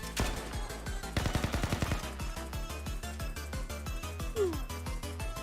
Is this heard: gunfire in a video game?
yes